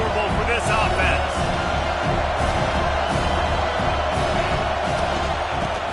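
A football stadium crowd at an NCAA Auburn game roars continuously and loudly, a dense wall of cheering and noise with commentary talking over it.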